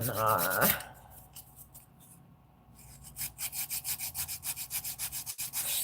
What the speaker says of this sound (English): start filing.